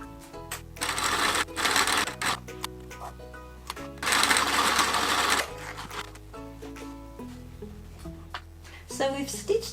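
Sewing machine stitching cotton quilt pieces for a patchwork block, running in several loud bursts with pauses in between, with a person speaking during the quiet stretches.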